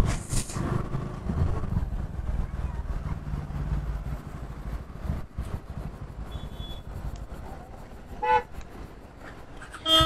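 Heavy road traffic on the route from Hyderabad to Srisailam, with a rumbling engine drone, a few sharp car horn toots and passing vehicles, moderately loud and close.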